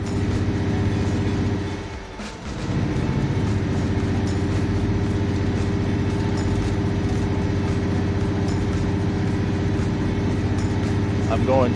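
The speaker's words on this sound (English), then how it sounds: "Yeah, this truck definitely has a very distinct sound." A truck on an Alaskan highway hums at cruising speed, a constant loud mechanical drone with steady tonal whine heard from the cab, dipping briefly before settling back in.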